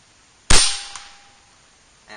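A single sharp crack from an Air Venturi Avenger .25 air rifle, loud and close, followed by a short ringing decay and a faint second tick.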